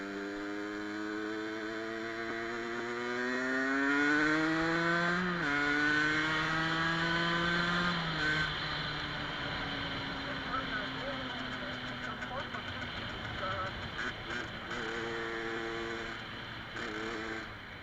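A Gilera RCR motorcycle engine climbs through the gears while riding, its pitch rising, dropping at each shift and rising again. It stays loud and close throughout, with some wind noise.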